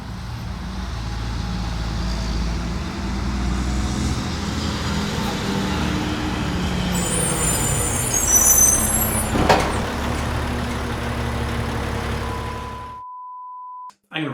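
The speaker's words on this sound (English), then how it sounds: "every week I try to record a video when the garbage truck is coming by" Garbage truck rumbles past close by with a loud, steady engine drone and a sharp hiss of air brakes midway, then the noise cuts off abruptly near the end.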